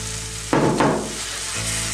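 Vegetables for pav bhaji hit a hot pan with a sudden burst of sizzling and a second splash of frying hiss, then settle back to a low, steady crackle, close and fairly loud, with no speech.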